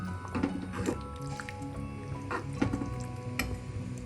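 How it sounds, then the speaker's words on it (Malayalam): Potato and egg curry stirred in a pan, with wet squishing, scraping spoon strokes and light sizzling in irregular bursts, close up with no voices. "ഇതൊന്ന് ഇളക്കി കൊടുക്കാം."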